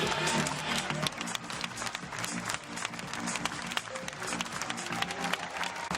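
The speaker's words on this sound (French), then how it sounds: "Approchez-vous que le public vous applaudisse, s'il vous plaît." Continuous crowd clapping for a Class 40 sailor called forward at the Route du Rhum 2014 trophy ceremony, a steady moderately distant patter of hands over low murmuring and background hum.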